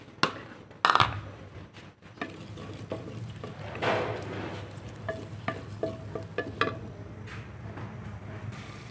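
Onions half-frying in ghee or oil in a pan for a Punjabi curry, a soft steady sizzle with scattered clinks and stirring scrapes, a couple of louder knocks near the start.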